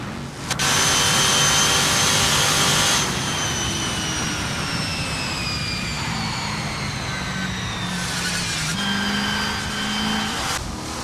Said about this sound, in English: Renault 99 is getting to grips with the Lola T70 MKI Spider in this practice session.